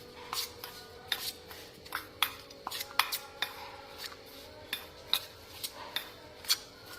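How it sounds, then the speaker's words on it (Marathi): Spoon clinking and scraping against a bowl while bangen masala is mixed with a spoonful of oil, a steady series of sharp, close taps and scrapes at an uneven rhythm over a quiet background. "हे सगळं व्यवस्थित आता मिक्स करून घेऊया"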